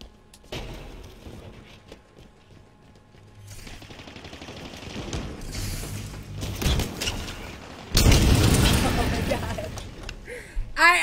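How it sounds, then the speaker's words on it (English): A self-inflicted explosion in a shooter video game bursts out loudly near the end, following a stretch of busy in-game gunfire and clatter. "I blew myself up, ain't nobody hit me."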